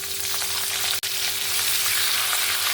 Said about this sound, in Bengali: পেঁয়াজটাকে একদম সুন্দর লাল লাল করে ভেজে নেব